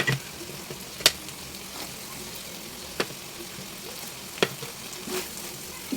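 Corned beef with fried potatoes being stirred in a pan, a faint steady sizzle with a few sharp utensil clicks against the pan spaced a second or two apart.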